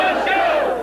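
A brief, loud burst of many voices shouting together comes from a crowd of about 200 protesters at an anti-tax rally in Chicago.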